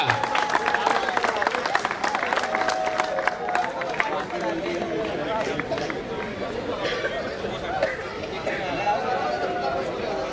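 A crowd applauds the best bowler at a prize distribution ceremony for a Dhuleti cricket tournament. Dense, steady clapping runs throughout at close range, mixed with crowd chatter.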